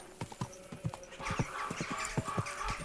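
Horse hooves clip-clop at a quick, steady trot in the video game Kingdom Come: Deliverance II, faint and close with regular beats over light background ambience.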